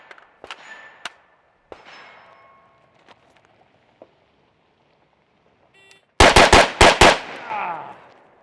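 A SIG 556 rifle fires a quick string of loud, sharp gunshots close by, following several seconds of faint clicks and handling noises.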